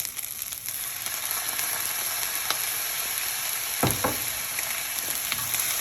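Rice frying in a pan as soy sauce goes in, a steady loud sizzle throughout with a couple of brief stirring scrapes near the end.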